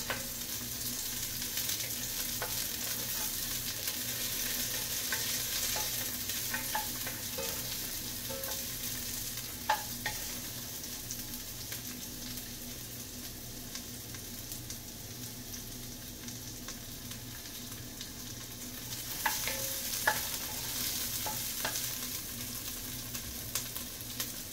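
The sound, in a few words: sautéing onions sizzling in pan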